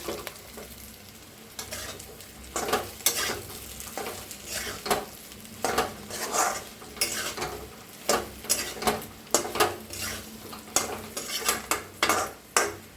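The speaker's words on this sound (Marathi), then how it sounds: "थोडंसं असंच भाजून घेऊया आपण" Chili masala roasting in a steel pot, a spoon scraping and stirring in an uneven rhythm of repeated strokes over a constant low sizzle, close up with no talk.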